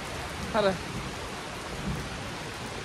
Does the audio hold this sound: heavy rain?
yes